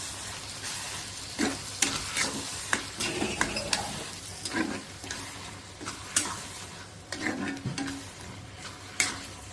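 Prawns for prawn sukka frying in a pan, a steady sizzle broken by repeated clattering scrapes as they are stirred, close and alone with no talk.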